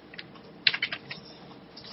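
A computer keyboard clicks through a short run of keystrokes while a VPN server address is entered, a quick close cluster of taps with a few sharper hits, no speech.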